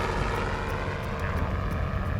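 A helicopter flies over open terrain in Kenya during a rhino relocation, its engine and rotor giving a steady, loud drone with a faint rhythmic beat, no voices.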